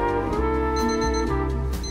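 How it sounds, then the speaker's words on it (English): An alarm clock rings loudly and close by, a steady run of bright electronic beeping tones pulsing in a repeating pattern throughout, with no talking over it. "Did your alarm go off?"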